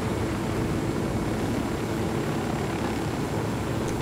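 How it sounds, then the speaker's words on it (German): A helicopter in the Ghost Recon Wildlands video game gives off a constant, loud engine and rotor drone that holds steady throughout with no talking. "Der Helikopter hat keine Waffen, ne?"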